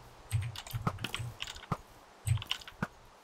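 Computer keyboard keys clatter in short irregular bursts with pauses between, close and moderately loud, during a casual online game session with no talk over them.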